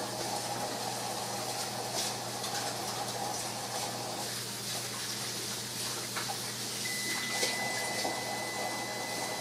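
Greasy dishes are washed with soap under running tap water, a steady close gush of water with faint clinks and rubbing, and no talk.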